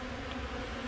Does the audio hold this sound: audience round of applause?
no